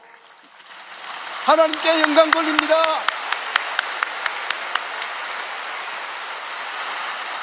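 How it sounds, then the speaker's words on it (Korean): A congregation at a Korean church memorial service for the 74th anniversary of the Korean War breaks into applause. Someone speaks as the clapping swells, then it settles into a steady, rain-like patter with a few sharp nearby claps. "다시 한번 큰 박수로"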